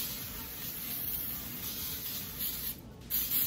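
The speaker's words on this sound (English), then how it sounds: "So I'm gonna shake this and spray my pan." Can of cooking spray being shaken and sprayed onto a baking pan, soft hissing and rubbing close by at low volume with a short burst toward the end.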